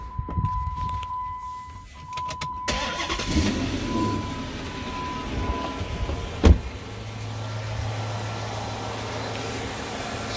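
A car engine cranks and catches, with a sharp click partway through, then settles into a steady low idle rumble.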